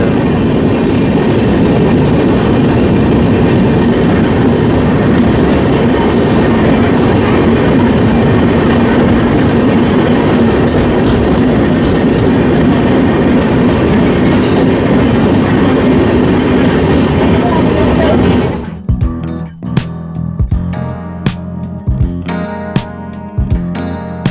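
The Kanchankanya Express rumbles loudly and steadily through a tunnel with a dense, roaring clatter, then the enclosed roar drops away into sharper rhythmic clicks and clacks of wheels on rails.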